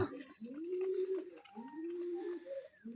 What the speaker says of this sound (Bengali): কৈতুরগুলা